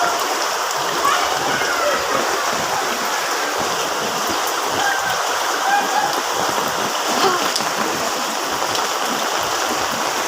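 Rushing floodwater during Typhoon Carina pours steadily near a flooded compound, a continuous broadband roar like a stream or waterfall with splashing, close and loud throughout, with faint voices in the background.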